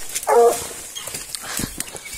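Hunting dog on a wild boar trail giving a short high whine, then faint scattered yips and rustling in open country, with no one speaking.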